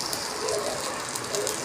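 Cumin and mustard seeds spluttering in hot oil while tempering a Tamil spinach and lentil kootu, a steady dense crackle and hiss like light rain, close and continuous with no voices.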